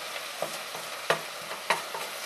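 Chicken pieces fry in a too-small pot for Japanese curry, with soft sizzling and several sharp scraping stirs at irregular intervals, close by and with no voices.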